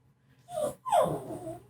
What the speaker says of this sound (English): Oh, she's moaning again. You little doggy.